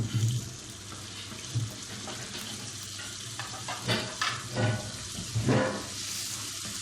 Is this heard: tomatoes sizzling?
yes